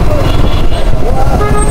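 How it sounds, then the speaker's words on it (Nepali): A new Yamaha R15 V4 motorcycle sounds its horn in a steady, loud blast lasting under two seconds, with road noise around it. "हर्न चाहिँ दामी छ गाइस"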